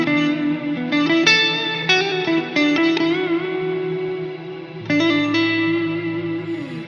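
A single guitar note held indefinitely by a reverb pedal's freeze function, with a delay and second reverb layering extra ambience; sustained shimmering tones swell in with new attacks near the start and again later, alone without talk.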